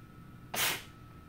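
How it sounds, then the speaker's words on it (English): A single short sneeze bursts out close by, loud and sharp against a quiet indoor background, with nothing before or after it. "Thought I had more of a sneeze than that."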